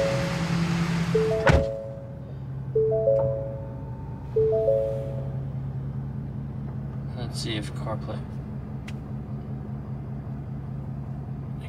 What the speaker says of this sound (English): let's start the truck up